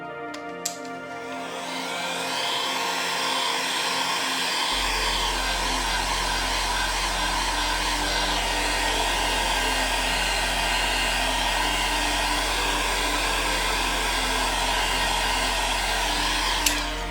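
A hair dryer or heat gun warms a vinyl skin on an ASUS ROG Ally handheld, a loud steady close whooshing whine with a low hum that switches on after a brief click and runs continuously.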